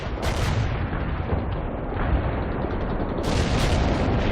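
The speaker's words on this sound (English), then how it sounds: "Anti-tank strike is inbound." Anti-tank strike explosions in World in Conflict: a dense, loud, continuous barrage of booming blasts and crackling gunfire, with sharp bursts near the start and end and no voices.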